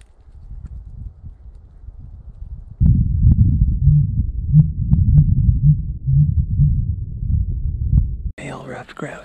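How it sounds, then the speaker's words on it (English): A male ruffed grouse drums close by in the woods, low muffled thumps in a quickening run under soft outdoor rustle, followed by a brief breathy sound at the end. "If you hear this sound, it's the sound of a rough grouse in the background,"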